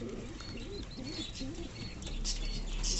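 Fantail pigeons cooing up close, several soft rolling coos in a repeating rhythm with faint chirps, over a low background rumble that grows toward the end.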